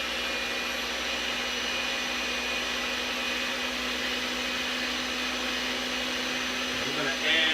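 A steady motorized whir of a stand mixer with dough hooks mixing flour and salt runs continuously at an even level, with a brief louder surge near the end.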